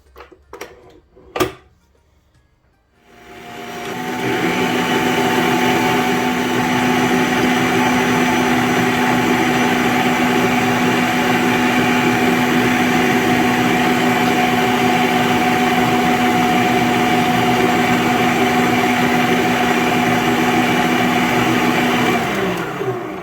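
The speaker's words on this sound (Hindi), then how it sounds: "अब इसको मैं डाल दूंगी मिक्सर में।" A couple of clicks, then an electric mixer whirs on, beating coffee into a frothy whip, and runs loud and steady at an even pitch for a long stretch.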